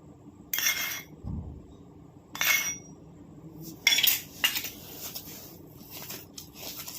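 Spoon clinking against a dish while yellow food colour is stirred into Bombay rava sweet, a few sharp scraping clinks spaced apart with a dull knock, close and fairly quiet, no talk.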